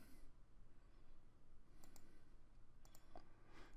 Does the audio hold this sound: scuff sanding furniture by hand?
no